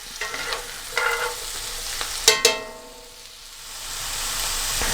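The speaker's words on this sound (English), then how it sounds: "we're only going to be cooking the carrots and celery for about 5 to 10 minutes" Carrots and celery sizzle softly in an oiled pan, with a few sharp scraping stirs near the start and a steady frying hiss building toward the end, close by and without talk.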